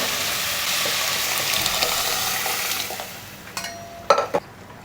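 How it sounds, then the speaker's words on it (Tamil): A pot of sambar bubbling and hissing steadily on the stove, followed by a few clinks of a spoon or lid against metal near the end. "சாம்பார் கொதிக்குது."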